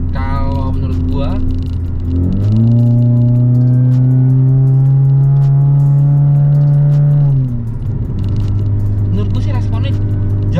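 A project car fitted with an aftermarket exhaust revs hard, its engine note climbing and holding high for several seconds before dropping back to a deep idle, loud and close.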